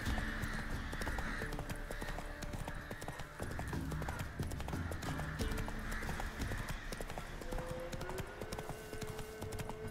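Hooves clip-clop rapidly and steadily as a horse gallops in The Witcher 3 video game, loud and close throughout, with occasional tonal game sounds layered over the rhythm.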